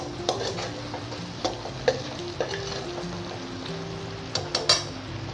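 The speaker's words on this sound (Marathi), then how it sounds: "हा मसाला मंद आचेवर चांगला परतवून घ्यायचा।" Masala of red chilli powder, black masala and garam masala sautéing in oil over low heat for akkha masoor: a gentle continuous sizzle with occasional spoon scrapes and clinks against the pan.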